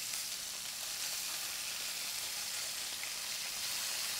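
Fennel, flipped once golden on one side, sizzles quietly in a pan, a faint, even hiss of frying that holds steady throughout with no voices.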